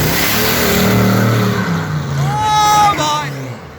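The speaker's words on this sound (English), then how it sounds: "Off he goes, and the Clio's going to send it." A Renault Clio accelerates hard away from the Phoenix Inn on New Year's Day, its engine revving loud and close and rising in pitch through the gears, with crowd chatter underneath.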